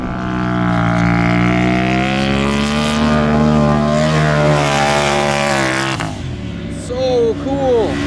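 A 1300HP Polaris RZR engine roars loud and close while dune riding, its pitch rising and falling steadily across the sand before the revving shifts and whoops near the end, with voices over the engine.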